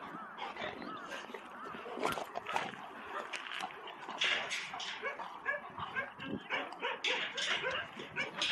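Dogs at an abandoned-dog shelter on Geoje Island bark, yip and whimper in an irregular mix close by, with people's voices mixed in among the animal sounds.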